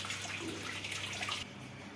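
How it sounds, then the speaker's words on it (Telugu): Water pours off soaked lentils and rice, drained before grinding them into cucumber dosa batter; a steady, close splashing rush that stops abruptly near the end. "వాటర్ అయితే వంపేసుకున్నాను"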